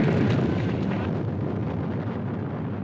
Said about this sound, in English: the movie cuts to footage of a nuclear explosion